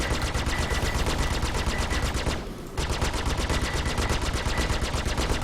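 Cannon fire in a video game rattles in a dense, continuous rapid-fire stream, loud and unbroken apart from a brief dip midway, with no voices over it.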